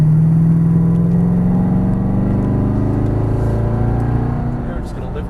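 A C7 Corvette Stingray accelerates hard on a race track, its engine note climbing steadily in a loud, close, continuous rising drone that eases slightly near the end, with an instructor's voice talking over it.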